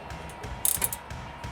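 A KONI rear quad shock on a 1979-2004 Mustang being adjusted by hand, a few soft mechanical clicks and a short ratcheting rattle in the middle, close and brief with no talking.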